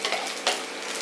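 Mustard seeds frying in a pan for a traditional Kerala spinach stir fry give a steady, close crackling sizzle with a brief sharper burst of pops midway.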